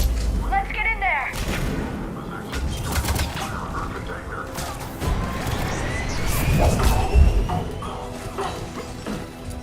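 Gunfire in Mass Effect: Legendary Edition during a firefight at a checkpoint against Cerberus troops, with loud repeated shots and crashing impacts spread across the clip among other battle effects.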